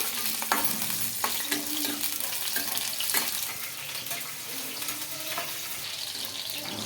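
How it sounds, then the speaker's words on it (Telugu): Green chillies fry in hot oil in a home kitchen, a steady crackling sizzle with occasional stirring scrapes, close and continuous throughout with no talk. "పచ్చిమిర్చి అయితే బాగా ఫ్రై చేసుకోవాలండి ఆయిల్లో"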